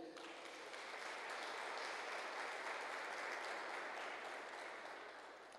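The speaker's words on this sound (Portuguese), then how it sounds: "Aplauda o Senhor." A church congregation applauds during a sermon, a broad, even wash of clapping that swells and holds across the moment before tapering slightly, heard fairly faint and distant with no talking over it.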